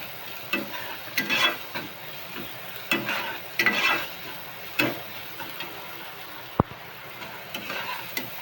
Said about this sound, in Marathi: कांदा चांगला भाजून घेऊया. थोडंसं मीठ टाकूया, कांदा भाजल लवकर.